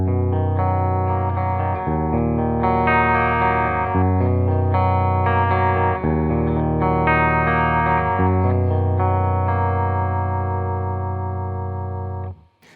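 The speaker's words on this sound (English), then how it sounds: "Here's my clean sound. I'm playing my PRS Custom 24 going into my Fender Deluxe Reverb." Clean electric guitar from a PRS Custom 24 through a Fender Deluxe Reverb amp with slight amp reverb, playing ringing sustained chords that change roughly every two seconds, steady and loud, then fading at the end.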